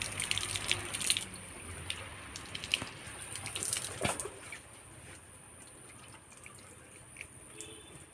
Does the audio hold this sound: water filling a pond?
yes